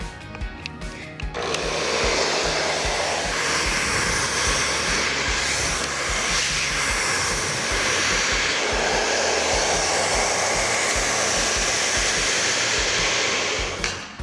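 A hair dryer set to high heat and low power blows on hair being smoothed, a loud, continuous close-up roar and rush of air that holds steady after a brief start.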